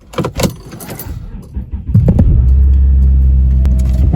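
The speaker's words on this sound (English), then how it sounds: "start the engine" Volkswagen car engine starting, with a few clicks and taps of key handling first, then the starter catching and the engine settling into a loud, steady low idle rumble close by.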